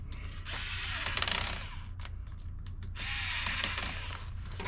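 A ratchet tightens a bolt during a Tesla charger plug installation, giving two bursts of rapid clicking, close and fairly loud, separated by a brief pause and some handling knocks.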